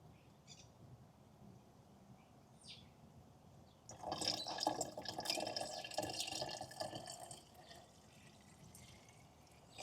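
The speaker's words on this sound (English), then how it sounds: "Pour it sideways for more control." Coolant poured from a bottle into a car without a funnel: a faint glugging, trickling liquid stream that starts suddenly partway through and runs for several seconds before tapering off.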